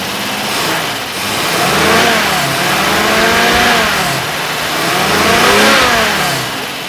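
An MGC sports car's balanced six-cylinder engine, fitted with a performance camshaft, electronic ignition and head work, revs up and down in repeated smooth surges, loud and close, with the exhaust note rising and falling.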